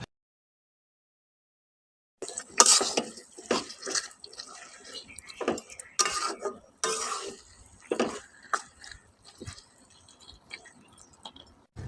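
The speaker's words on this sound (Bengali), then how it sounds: "এখন আমি গুড়টাকে খুব ভালো করে মিক্স করে নিব আর অনেকক্ষণ যাবত ভেজে নিব" Mango pickle with jaggery stirred and fried in a pan after an initial silence, with a spoon clanking and scraping in irregular bursts amid a thick, wet sizzle.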